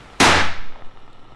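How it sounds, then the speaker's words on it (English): A single loud, sharp gunshot from inside a house in the indie horror video game FM, with a quick decaying tail, standing alone without talk. "Oh yeah, that's the gunshot."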